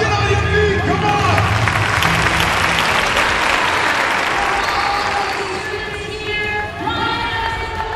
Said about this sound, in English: Grab an applause! Get on your feet!